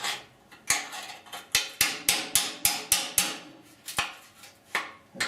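Sharp metallic hammer blows strike a chisel against the rusted core support of a 1969 Chevrolet C10 truck, about a dozen close, loud hits in an uneven rhythm with short pauses between them.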